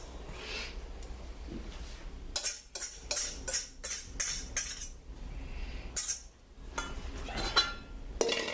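A spoon stirs banana pieces into a yeast batter for beignets, scraping and clinking against the bowl in quick, close bursts with short pauses.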